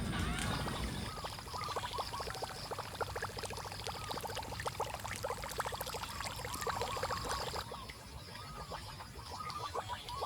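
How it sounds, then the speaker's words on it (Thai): Water flowing and splashing beside a roadside spot during a morning snakehead fishing outing, a continuous close pouring rush with a trickling texture that holds steady throughout, with no speech over it. "มีน้ำไหลด้วยครับ น่าโดนมาก"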